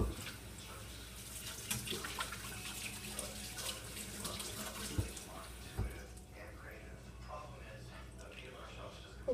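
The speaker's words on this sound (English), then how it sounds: "Let me just wash my hands and I'll make the first one." Hands are washed under a running kitchen tap while cooking meatballs, giving a steady hiss of flowing water with small splashes and clinks throughout, quiet and close, with some faint speech beneath it.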